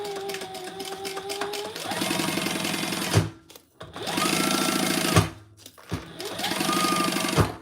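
A sewing machine top stitches a fabric crossbody bag in three loud, steady runs of rapid needle chatter. Each run starts with a rising motor whine and ends in a brief stop.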